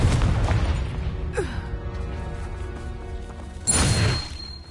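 Confringo fire spell cast in Hogwarts Legacy, bursting in a booming blast at the start, then a second loud crash near the end, with game effects whooshing and ringing between.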